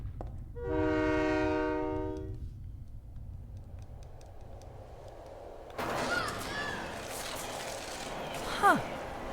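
A train in the Silent Hill 3 video game sounds a long, loud horn over a low rumble, then goes quiet. A voice and game noises follow, with a brief sharp sound near the end.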